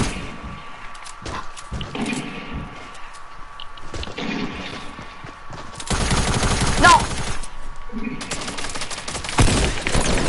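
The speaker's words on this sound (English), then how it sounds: "Why are you shooting hunting rifle shots?" Rifle shots in a video game, a burst of loud dense broadband gunfire arriving midway and continuing to the end, over game ambience with faint voices chatting.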